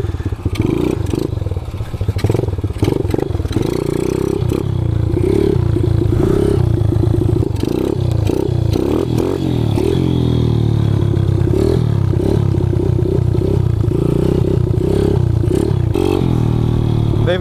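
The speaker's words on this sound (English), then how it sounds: "The FMF gives it a good throaty sound for a little bike like this." Kawasaki KLX 110 pit bike with an FMF exhaust, its small engine running steadily and loud with a throaty drone, with revving and mechanical clatter throughout.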